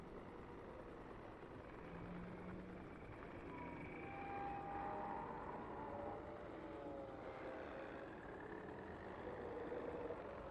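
A helicopter standing by in a video game, heard as a steady, moderately loud engine and rotor drone that holds evenly throughout with slight swells, with no talk over it.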